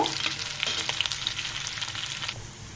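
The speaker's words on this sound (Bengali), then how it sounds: "এ পর্যায়ে দেখুন আমি মশলা শুকিয়ে একদম ভাজা ভাজা করে ভেজে নিয়েছি" Spices fry in oil in a pan for a dried-prawn and pumpkin dish, giving a steady, close crackling sizzle with light scraping from stirring throughout, and no voices.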